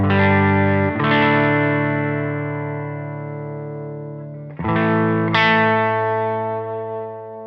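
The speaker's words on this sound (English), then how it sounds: "we notice a little bit more overdrive because these pickups here, quite a bit hotter" An electric guitar with hot RAF pickups through overdrive rings out in sustained, warm distorted chords, one struck and left to decay for several seconds, then a second chord with a higher note added, loud and alone.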